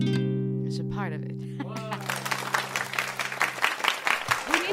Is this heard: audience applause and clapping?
yes